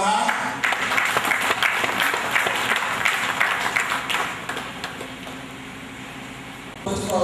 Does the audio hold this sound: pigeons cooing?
no